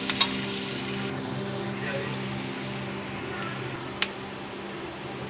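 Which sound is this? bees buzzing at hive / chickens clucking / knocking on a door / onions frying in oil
onions frying in oil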